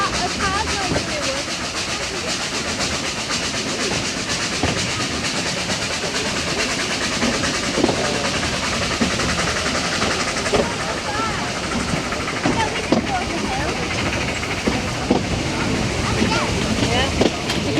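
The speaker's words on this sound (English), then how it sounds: "I think we're going uphill because we're chuffing." Steam train chuffing uphill on the Welshpool and Llanfair Light Railway, heard from on board as a constant loud hiss and rumble with rattling carriages, while people talk at times.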